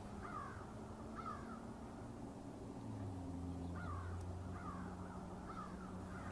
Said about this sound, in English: We can hear some birds, of course.